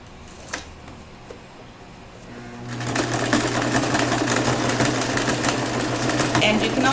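A sewing machine stitches a straight line on denim: after a quiet moment a steady, rapid mechanical whir starts and runs on at close range. A voice is briefly heard as well.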